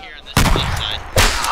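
Gunfire in a first-person war video game bursts in twice, loud and close, a sharp crack near the start and another near the end, with game noise and a voice faintly underneath.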